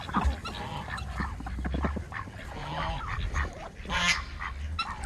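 Ducks and geese outdoors by water after the ice has gone out, calling in scattered quacks and honks at close range, with low wind or handling rumble underneath and no talk.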